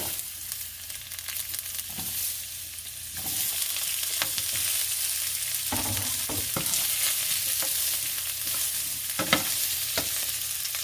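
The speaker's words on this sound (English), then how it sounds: "Now we're going to add the onions, which are again in bigger sizes than usual" Onions sizzle and crackle steadily in a hot pan as they are stir-fried for a Korean vegetable stir-fry, with scraping stirs and clatters breaking through the continuous frying hiss.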